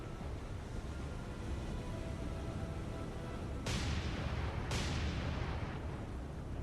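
Warship guns firing in the naval game War on the Sea, two sharp distant booms a second apart over a constant low rumble of engine and sea noise, each with a brief rolling tail.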